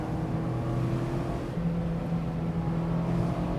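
A Mazda Miata sports car cruises a good road, its engine a steady, close droning hum with a slight shift in pitch partway through, carrying on without pause under faint road and wind rush.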